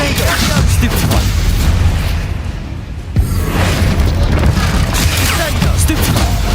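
Spell blasts in the video game Hogwarts Legacy hit in loud booming bursts and whooshes amid combat noise, with a brief lull and a sharp impact midway, under voices.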